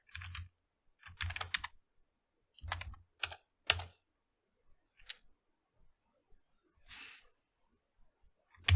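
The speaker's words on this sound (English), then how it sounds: "I might have to actually type in Python 2 now." Keystrokes clatter on a computer keyboard in short, irregular bursts with pauses between them, close and fairly quiet, with no voices.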